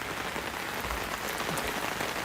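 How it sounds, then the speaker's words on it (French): Rain falls steadily outdoors, a dense, even hiss of drops pattering on surfaces with no pauses. "Elle est où la pluie? Bon, on la voit pas à la caméra, mais elle est bien là."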